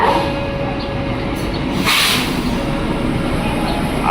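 A KRL CRRC commuter train rumbles steadily and loudly into Kemayoran station, with a continuous rolling roar and a brief hiss in the middle.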